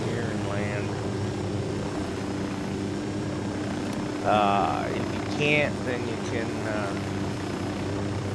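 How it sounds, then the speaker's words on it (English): A constant rotor and engine drone of a small helicopter in Ghost Recon Wildlands runs throughout while someone talks over it, with a few brief chirping game sounds. "It's a small helicopter, like I said."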